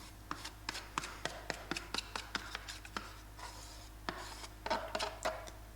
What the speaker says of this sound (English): we'll use our knife and just scrape out as much as we can